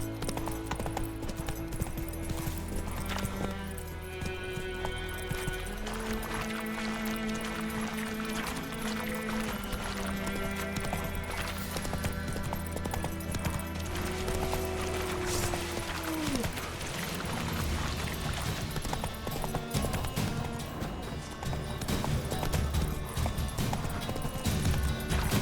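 Roach the horse trots with steady hoof clip-clops in The Witcher 3, the rhythmic hoofbeats sitting under a continuous bed of game music and ambience throughout.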